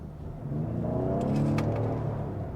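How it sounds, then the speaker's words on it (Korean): A Ford Explorer PHEV's 400-horsepower V6 twin-turbo engine revs up steadily with a deep, building growl that swells and holds, heard up close with no talking. "이 엔진 V6 트윈 터보 엔진 있잖아요"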